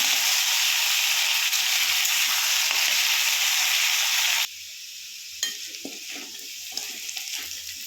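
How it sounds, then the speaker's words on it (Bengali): Slit green chillies frying in hot oil in a pan make a loud, continuous close sizzle that abruptly drops to a much quieter crackle partway through, with faint utensil sounds after. "কাঁচা লঙ্কা চিড়ে রেখেছি, দিয়ে দেবো। এগুলো লাল লাল করে ভেজে নেবো।"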